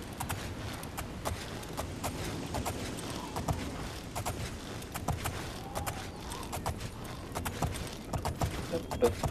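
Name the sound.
horse hooves clip-clopping in video game Oblivion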